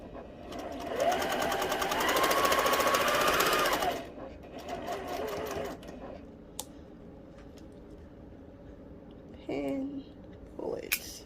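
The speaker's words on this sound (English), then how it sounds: "So now I'm getting ready to sew my row all the way down to the end, no stopping, other than to pull my pins." A sewing machine stitches a quilt row in one fast, buzzing run of a few seconds and then stops. A short whir follows, then a soft voice and a few handling clicks close by.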